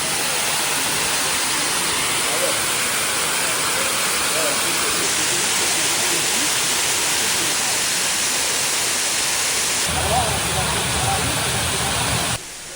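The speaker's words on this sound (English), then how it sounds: "the waterfall itself is really beautiful and the perfect place to go for a little relaxing" Na Muang Waterfall on Koh Samui pours in a steady, dense broadband rush, loud and continuous throughout, with no clear breaks.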